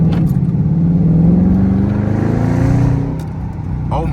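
A Dodge Charger R/T with a mid muffler delete and 5-inch exhaust tips revs hard, a loud, close, throaty roar that rises and swells, then drops back toward idle near the end.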